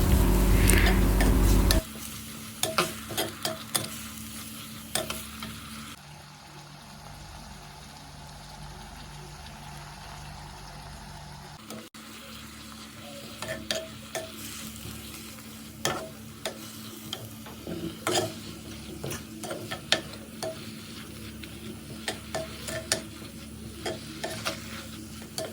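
Crushed ginger, garlic and green chili stirred in a pan for a chicken masala, with steady sizzling frying and scattered scraping stir clicks that pause briefly mid-way before resuming.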